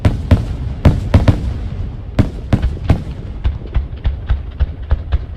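A fireworks finale booms in rapid irregular bursts, sharp loud cracks and thuds clustered closely together then spacing out slightly, with no voices over them.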